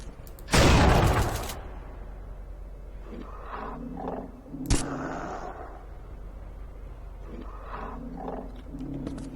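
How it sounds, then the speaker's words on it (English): Combat assault rifle from the game Unreal II: The Awakening, firing uranium shards in fully automatic mode. One loud, roaring burst lasts about a second, a sharp single crack follows a few seconds later, and softer game sounds continue underneath. "This is the combat assault rifle."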